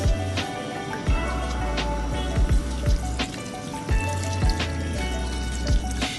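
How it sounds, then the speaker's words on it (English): Water poured into a pot of Afang soup, a steady liquid splashing and trickling with a few louder gurgles, close by and without talk. "At this point, we would have to add water proper."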